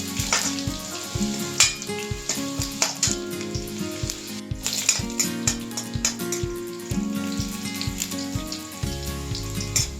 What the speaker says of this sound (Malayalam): അതിലേക്ക് അരിഞ്ഞ പയറിട്ട് കൊടുക്കുക.